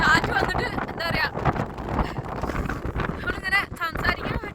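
Strong gusty wind buffets the microphone on a hike in heavy rain at Coumshingaun Lough, roaring in uneven surges while a person talks over it.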